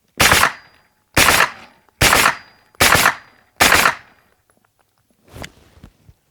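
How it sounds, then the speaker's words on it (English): Five evenly spaced, sharp, loud reports from a pistol caliber carbine with 100-grain ammunition ring out close by, followed after a pause by a fainter sixth bang. "Really try to get all the pairs that I shoot feeling exactly the same."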